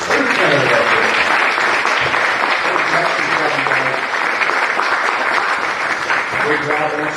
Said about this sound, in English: How about a round of applause for every candidate out there?